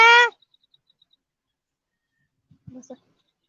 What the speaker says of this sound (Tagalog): Ibang ibon pala yun.